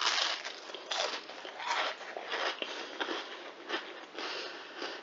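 Crunchy spiced bread chips being bitten and chewed up close, a steady run of dry, crackly crunches repeating over several seconds with no talking.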